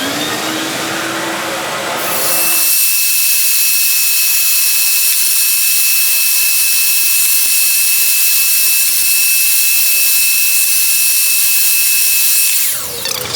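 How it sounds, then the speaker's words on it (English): A large wooden salad bowl spins on a lathe while being sanded through the grits, giving a steady, loud motor whine and abrasive hiss that runs unbroken for about ten seconds before stopping. "So that sanded out absolutely perfect, down to 600 grit."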